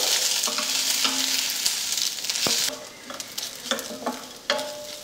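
Onion frying in a tablespoon of oil until golden brown, with a steady close sizzle broken by repeated scraping and clinking stirs of a spoon against the pan.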